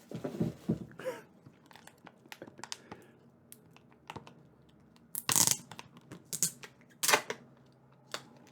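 Crinkly wrapper of a stick of chewing gum being peeled open up close, a series of sharp crackling bursts and rustles separated by short quiet gaps, with a couple of louder crackles near the end.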